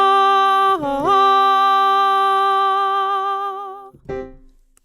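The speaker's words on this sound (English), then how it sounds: "this is the sound of the horn of Rohan." A perfect fifth interval played like the horn of Rohan from Lord of the Rings, two brass-like tones sounded in succession and held loudly together, followed by a short softer note near the end.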